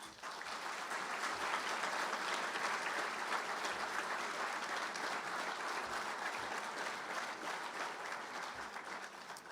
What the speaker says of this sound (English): Your applause does her justice.